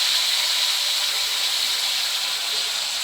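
Spices including hing and curry leaves sizzle in hot oil for misal, a bright, steady hiss that holds evenly throughout without speech.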